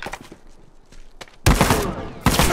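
Sniper and other gunfire in The Last of Us Remastered multiplayer, two sharp loud shots in close succession after a stretch of quieter ambient game noise.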